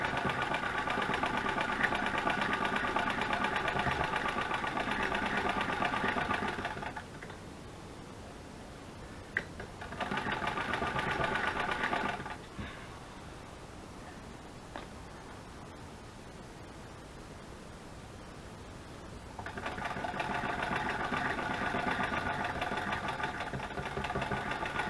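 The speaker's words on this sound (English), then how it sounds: "So you can flat get this sewing machine humming" Sewing machine running in a craft room, a steady mechanical hum in long stretches that stops for a few seconds and then starts again, with quiet background noise in the pauses.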